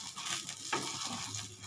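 Fish swim bladder fries in a pan without oil, giving a soft, steady crackling sizzle with a quick scrape partway through, quiet and close.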